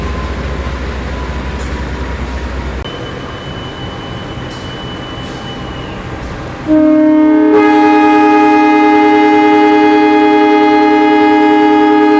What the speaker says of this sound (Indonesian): Mantep coy, klakson panjang.